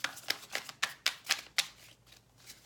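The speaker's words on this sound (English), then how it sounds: "I'm sorry if the shuffling is loud. This card are kind of thin." Thin tarot cards are riffled and shuffled in six crisp, evenly spaced bursts close by, each a quick papery flutter, fading into quiet at the end.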